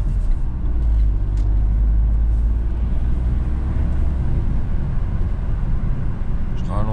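A car pulls away through a city intersection, its engine a loud, sustained low roar that swells and then eases over several seconds, heard from inside the vehicle amid traffic noise.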